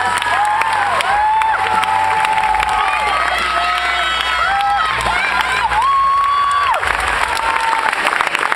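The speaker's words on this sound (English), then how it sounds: "give him a big round of applause" Loud, sustained audience applause with whoops and cheering from a studio crowd at an American Idol Experience singing-contest results show, running steadily for over eight seconds with scattered shouts rising above the clapping.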